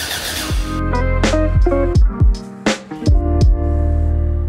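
A McLaren engine is cranked over to prime its oil, producing a loud, close, whining starter drone with a series of rhythmic pitch dips as it turns without firing, and no one talks.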